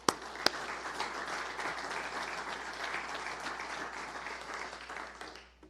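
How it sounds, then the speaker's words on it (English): A crowd applauds athletes at a university athletics giving-week event, a few sharp claps at first and then sustained, moderately quiet clapping that tapers off at the end. "So a big round of applause for them."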